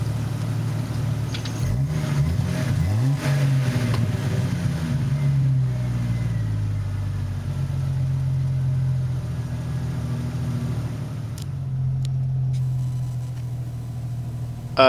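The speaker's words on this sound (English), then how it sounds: "It does have a Flowmaster exhaust. It has a very nice sound to it." A Jeep XJ with about 178,000 miles and a Flowmaster exhaust idles and revs, a deep throaty rumble with a few rising throttle blips early on, then a steady low burble close by.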